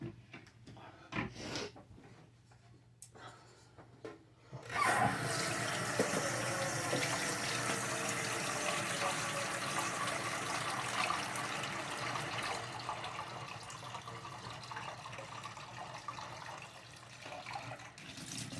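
Tap water runs into a cooking pot in a home kitchen for macaroni and cheese, a loud, steady gushing that starts abruptly after a few soft handling knocks and continues to the end.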